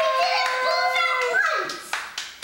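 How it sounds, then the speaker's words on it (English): A child's clapping at a birthday party: a few sharp, separate hand claps near the end, after a stretch of high, sing-song child vocalising. "Clap your hands."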